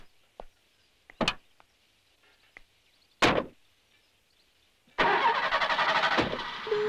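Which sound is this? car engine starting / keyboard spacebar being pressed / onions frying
car engine starting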